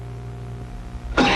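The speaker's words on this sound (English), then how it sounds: "Helen, with this nasty cough plus congestion, I need... Formula 44D." A single harsh, nasty cough bursts out at the end after a quiet hum, close and loud, from a person suffering with congestion.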